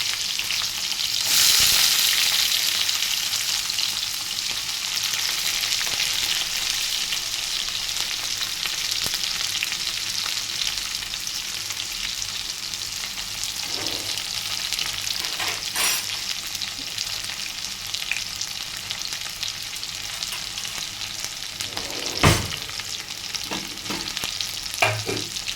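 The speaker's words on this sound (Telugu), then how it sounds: "ఇలా వేడెక్కిన తర్వాత నెక్స్ట్ ఇలా ఆనియన్స్ అనేది వేసేసుకోవాలి." Onions frying in hot oil with mustard seeds and cumin, a continuous close sizzle with occasional scrapes and pops from stirring, no talk over it.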